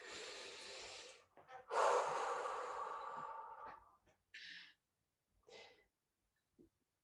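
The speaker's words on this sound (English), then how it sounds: "Take a nice big deep breath." A big deep breath drawn in and released slowly, close and fairly quiet, followed by a few shorter soft breaths and a faint click, with no talk.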